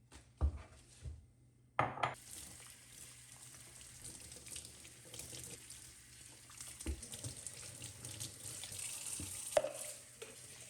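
A kitchen tap runs while dishes are washed in the sink: a faint, steady rush of water with a few soft clinks and knocks of dishes near the start.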